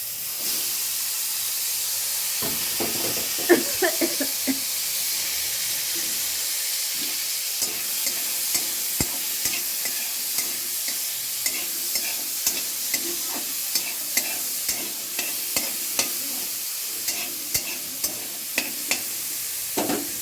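Drained green peas fry in a pan while a spoon scrapes and stirs them: a continuous loud sizzle with regular clicking strokes, no talk.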